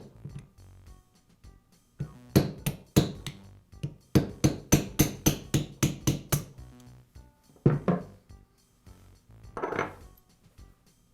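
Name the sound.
tapping a needle bearing free with a socket, Makita saw gear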